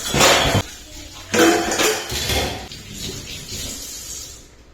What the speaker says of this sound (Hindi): सारा बर्तन को बारी बारी से धो के कैप वाल्सिन को भी अच्छा से मांज लेते हैं और धो लेते हैं।